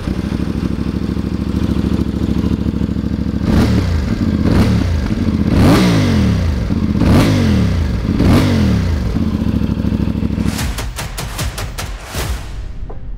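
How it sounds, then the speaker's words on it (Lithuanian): CFMOTO 450MT motorcycle engine idling steadily, then blipped through four or five sharp throttle revs that rise and fall, ending with a burst of quick rapid revs, loud and close with no talk. "iš pradžių paklausykite, kaip šis motociklas skamba"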